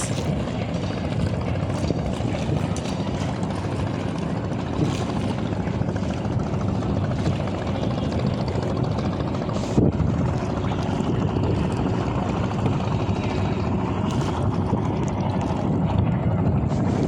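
Large river launches on the water at Sadarghat, a continuous loud engine drone and rumble mixed with wind buffeting the microphone, steady for the whole stretch with no clear talk.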